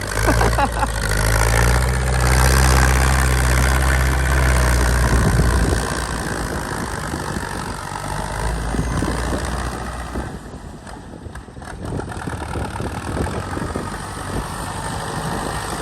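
A Ford farm tractor's diesel engine chugs loudly nearby, holding a steady rumble before dropping to a lower, rougher idle that keeps running.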